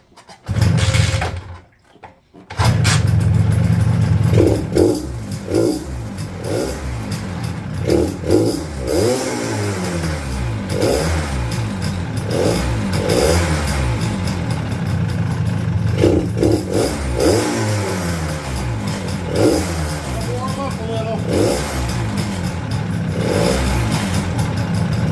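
A 1976 Harley-Davidson SS250 motorcycle engine catching after a brief sputter, then idling loud and close with repeated throttle blips and revs rising and falling over a steady clattering two-stroke idle on a chilly morning.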